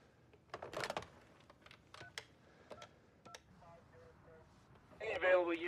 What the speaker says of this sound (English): Go ahead and pick up the phone.